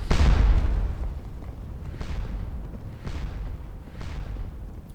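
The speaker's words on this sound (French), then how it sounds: "On entend quand même encore les canons." Distant cannon fire on the Waterloo battlefield in the game Scourge of War: a low rumbling boom followed by three more muffled reports at roughly one-second intervals, fading and far off.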